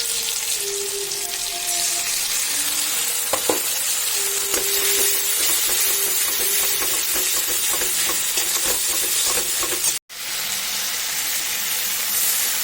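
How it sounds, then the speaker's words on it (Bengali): Salt and spices sizzle steadily in a hot frying pan with potato, cauliflower and prawns, a loud continuous crackling fry with occasional stirring clatter and a brief gap near the end. "একটু লবণ দেবো, এবার মশলাটা দিয়ে দেবো।"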